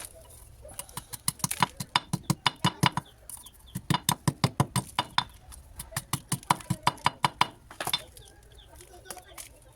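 A chicken clucks in quick, rhythmic bursts, a run of sharp short calls with brief pauses between groups, close and fairly clear.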